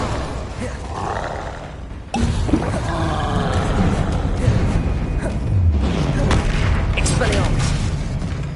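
An Incendio fire spell bursts in Hogwarts Legacy amid loud, continuous combat roar and booming effects, dense and unbroken throughout with no clear separation of sounds.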